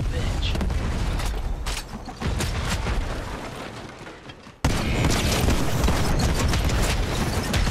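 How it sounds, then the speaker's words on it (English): Stick bomb blast in Fortnite, a dense booming explosion that swells loud, fades for a few seconds, then erupts again in a sustained roar, with gameplay noise underneath and voices talking. "they blew you up with a stick bomb"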